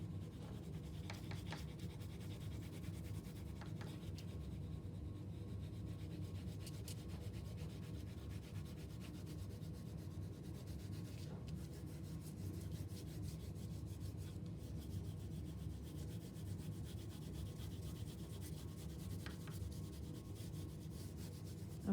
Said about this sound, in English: color in with a medium to soft pressure, just like you would if you were using a crayon